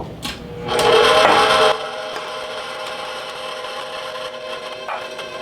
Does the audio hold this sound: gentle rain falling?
no